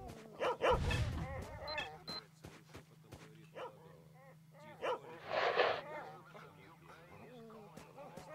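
Several mutant dogs bark and yelp in S.T.A.L.K.E.R. Shadow of Chernobyl, with a loud cluster of barks early on and another burst near the end, while someone talks over the game's low droning ambience.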